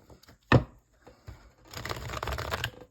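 Tarot cards are shuffled by hand: a single sharp tap, a short pause, then a dense run of papery riffling and rustling close by, with no voices.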